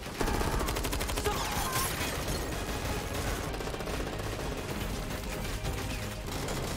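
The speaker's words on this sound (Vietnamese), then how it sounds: "Hai bên bắt đầu điên cuồng xả súng trong ngân hàng." Gunfire in a bank shootout from a heist film: dense, loud, continuous volleys of rapid shots with overlapping bursts and echoing cracks, sustained for the full stretch with no pauses.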